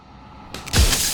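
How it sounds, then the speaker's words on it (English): A mirror shatters in the video game Slay the Princess: a creak, then one loud, close crash of breaking glass with a short ringing tail, heard alone with no talking. "He broke the mirror."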